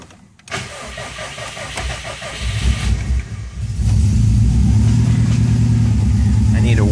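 A car running E85 fuel cranks with a rapid rhythmic whir, catches, then settles into a loud steady idle close by, with a voice briefly heard over it.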